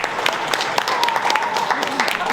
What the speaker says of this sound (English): So a warm round of applause for Linda Smith, please.